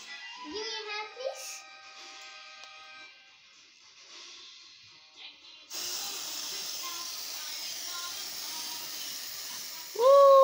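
Pink colored hairspray hisses from a can in a steady, fairly loud spray lasting several seconds, after a voice and quieter moments at the start.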